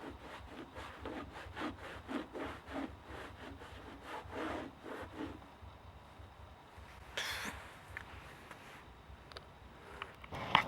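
Hand sanding of dried glue off bare metal inside a Ford Transit Connect van, a rhythmic back-and-forth rasp of about a dozen quick strokes, quiet and close, then a short pause and some shuffling.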